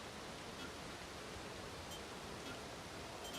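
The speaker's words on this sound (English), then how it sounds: "The rain's starting to subside." Steady rain hiss in the game SYNDUALITY Echo of Ada, a faint, even wash of noise with no change or gaps across the stretch; no talk.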